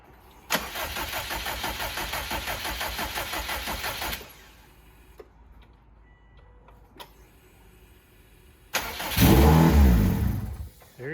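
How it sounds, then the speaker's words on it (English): A 2007 Subaru WRX fitted with a swapped STi engine cranks in a long steady whirring burst, falls quiet, then fires with a loud close roar before shutting off. "he's gonna try and give it a crank and see if it sputters, pops, does something"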